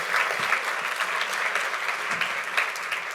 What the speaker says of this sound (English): Let's give John Giorgio a great round of applause.